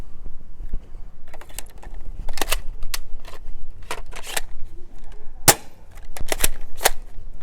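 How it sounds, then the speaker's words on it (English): Adventure Force Aeon Pro toy blaster firing half-length Pro darts through an adapter, a rapid string of sharp, close pops and mechanical clacks in irregular bursts. "we will shoot off 5 the half-length Pro darts."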